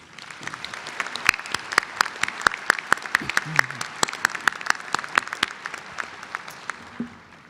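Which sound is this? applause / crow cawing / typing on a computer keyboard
applause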